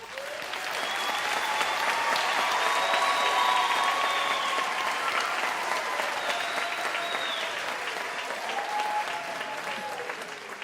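A large graduation ceremony audience breaks into a long, full round of applause that builds to a peak and then slowly eases, with a few faint high whistles or cheers threading through the clapping.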